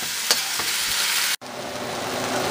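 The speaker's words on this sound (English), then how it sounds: "I'll just start stirring until it's pretty much cooked on one side" Food sizzles and fries steadily in a hot pan while being stirred, with a few soft scrapes and a brief cut-out partway through; no talking.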